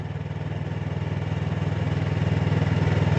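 A motorcycle engine runs steadily in second gear, a close, even, throbbing low drone with a pulsing rhythm that swells slightly louder over a few seconds.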